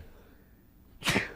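A single sharp sneeze bursts out near the end of a quiet podcast studio moment, loud and close after a stretch of low room noise.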